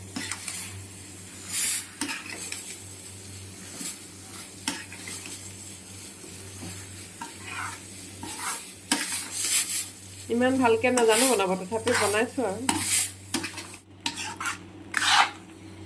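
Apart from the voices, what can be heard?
jujube pickle being stirred and fried in a pan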